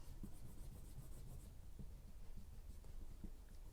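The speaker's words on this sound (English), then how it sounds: "you just give it a bit of a rub" An eraser rubs back and forth along the edges of a planner page to clear off excess adhesive, a faint, steady scratchy friction with soft rhythmic strokes heard close up.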